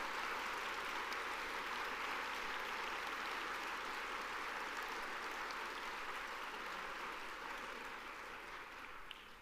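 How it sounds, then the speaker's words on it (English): An audience at a service recognition luncheon applauds its service award winners: a sustained, even wash of clapping that slowly tapers off toward the end. "Let's please have one more round of applause for all of our service award winners."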